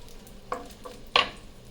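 Butter-coated chicken parm pieces in a pan, with two short scraping stirs rising over a faint frying hiss, the second louder and brighter; no talking.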